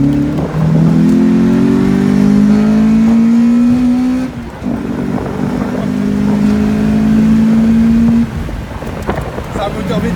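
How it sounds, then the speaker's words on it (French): A BMW E36 engine revs high and pulls through the range, its note rising steadily as a second valve stage opens above 6000 rpm. It sounds loud and close, climbs twice with a short break between, and has no talk over it. "On entend vraiment quand tu dépasses un certain nombre de tours un deuxième truc qui s'ouvre."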